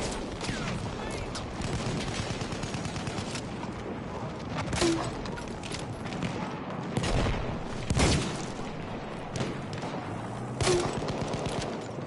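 Battlefield 1 combat rattles with sustained automatic gunfire and several dull booms from a grenade and other blasts, all loud and continuous, with a few heavier thumps standing out.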